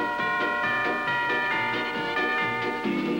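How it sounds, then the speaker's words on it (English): Bell ringing from a 1950s–60s Mitchell beer television commercial, a steady run of bright bell strikes over a sustained musical backing, loud and continuous throughout. "Mitchell rings the bell for me."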